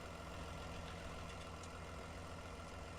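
A tractor engine idles steadily in Farming Simulator 19 on a Scottish potato farm, a low, continuous drone that stays even and fairly quiet throughout, with no talking.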